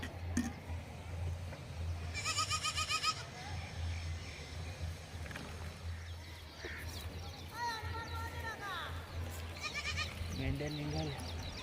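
Sheep bleat in a rural field in several short calls, including a brief one at the start, scattered bursts midway and a closing call, over steady low background noise while people talk nearby.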